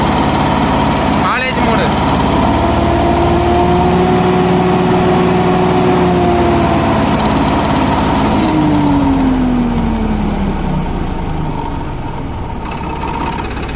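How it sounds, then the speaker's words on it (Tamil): A Swaraj 969 FE CRDI 4WD tractor diesel engine runs steadily at high RPM close to the microphone, a constant loud drone with shifting tonal whine as revs change, while someone speaks briefly over it. "ஈகோ மோடில் ஃபுல் ஆர்பிஎம் க்ளோஸ் பண்ணுறேன்"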